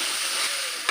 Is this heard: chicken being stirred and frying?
yes